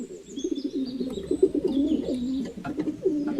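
A flock of pigeons in a forest setting cooing in repeated soft, low, warbling phrases, close and clear, with faint higher bird chirps in the background.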